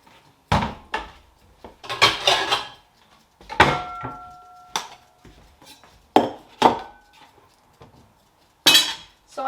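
Knife chopping peeled potatoes on a board in a home kitchen: a series of distinct, fairly loud knocks and clacks in irregular clusters, with quiet gaps between.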